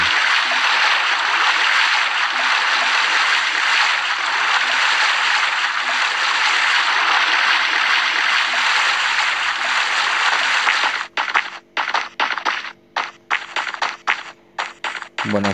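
Splashing and trickling water as a player character drops into water in the battle royale game Free Fire, a steady wash of liquid sound that breaks into choppy, intermittent splashes near the end.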